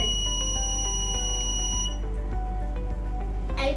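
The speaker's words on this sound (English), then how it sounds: "Can you hear the buzzer buzzing? This indicates that someone is ringing the doorbell." A doorbell buzzer set off by a touch sensor in a smart switch project sounds as a steady electronic buzz. It is loud and continuous, stops about halfway through, and comes back briefly at the end.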